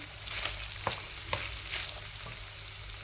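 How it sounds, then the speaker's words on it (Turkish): Steady sizzling of chopped onions frying in a pan, with a few soft stirring clicks and scrapes, close and fairly quiet, no voices. "Hemen şimdi 2 adet doğramış olduğum soğanlarımı içerisine ekledim."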